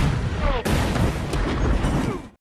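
Naval gunfire from a German warship in the World War II film Greyhound booms in a heavy blast followed by sustained rumbling and crackling, with a voice speaking over it.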